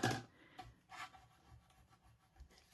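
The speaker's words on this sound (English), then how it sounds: "So it's a gum eraser. And I just need to get where it's sticky off." A gum adhesive eraser rubs sticky adhesive off a paper card, making a few short close scrubbing bursts with quiet pauses between them.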